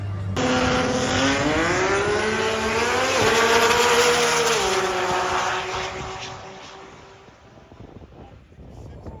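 A Nissan GT-R race car accelerates hard at a Texas drag strip, its loud engine note rising through gear changes for several seconds before fading into the distance, with wind buffeting the microphone.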